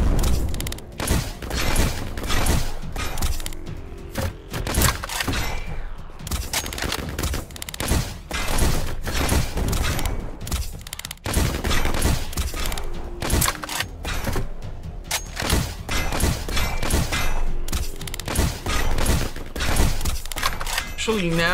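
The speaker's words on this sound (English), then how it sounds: "I'll just swap out like the automatic rifle or something." Rapid automatic rifle fire in the video game Black Skyland, dense bursts of gunshots and impacts running almost continuously with a player talking over the action.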